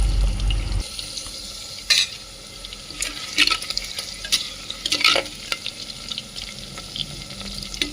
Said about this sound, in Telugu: ఆనియన్ అయితే మంచిగా డీప్ ఫ్రై అవ్వాలి